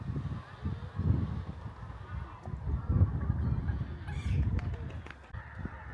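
A noisy flock of geese honks continuously at a middle distance, some calls rising above the general clamor outdoors.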